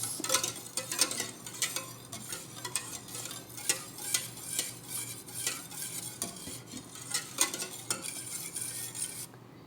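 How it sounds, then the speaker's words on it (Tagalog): A utensil scrapes and stirs steadily around a pot of milo leche flan mixture with gelatin, close and rhythmic with repeated metallic clinks and soft liquid swishing. "Mix na natin para hindi siya magbuo-buo."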